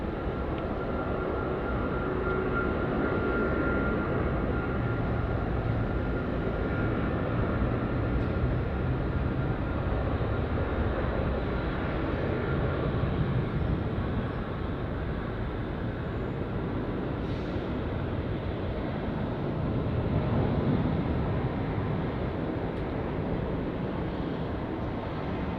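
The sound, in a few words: airliner taking off at Sydney Airport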